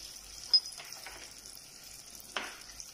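Butter and olive oil sizzle softly in a frying pan with a steady, faint hiss, broken by a few light clinks and taps of a utensil.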